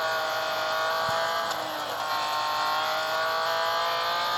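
Race car engine in a racing video game, held at a steady loud whine with layered harmonics as the car accelerates and brakes through a wide-radius turn, with a brief tire-scrub texture midway and no talk.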